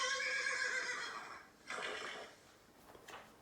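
A horse whinnies in two loud, shrill, wavering bursts, the first long and strong, the second shorter and fading, with no talking over it.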